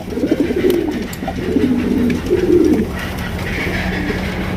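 Several Lahori pigeons coo in low, throaty bursts, repeating in uneven phrases over a steady background murmur.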